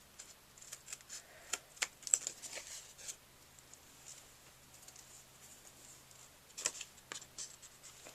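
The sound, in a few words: scissors cutting off excess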